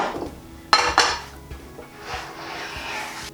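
A large saucepan is set down on a stove with two sharp metallic clanks, followed by softer scraping and rubbing of metal, close and without speech.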